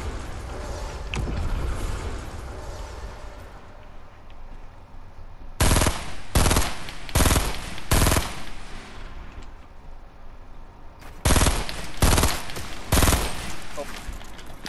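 Automatic gunfire in a Fortnite match comes in two hard bursts of several rapid shots each, loud and close, between stretches of quieter game ambience.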